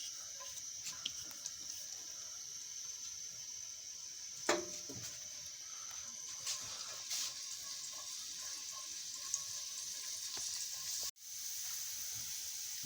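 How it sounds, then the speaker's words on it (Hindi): Garlic frying in hot ghee, a faint steady sizzle with soft crackles and one brief clatter near the middle, no voices. "घी थोड़ा गर्म हो गया, अब हम इसके अंदर लहसुन डाल देते हैं।"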